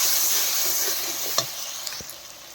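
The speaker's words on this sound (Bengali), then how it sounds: "মশলাটাকে কষিয়ে নেওয়ার জন্য মশলাটাকে কষিয়ে নিচ্ছি" Ground turmeric, cumin and coriander masala frying in a pan for a fish-head and cauliflower curry, a steady close hiss with a few sharp ticks from stirring, no voices.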